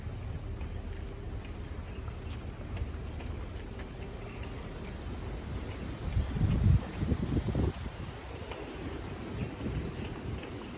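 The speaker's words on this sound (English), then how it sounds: "wind is just brutal." Strong wind roars steadily across the microphone at a boat haul-out for a 1984 Chris-Craft Catalina 381, with a louder gust surging in the middle and faint water and boatyard noise beneath.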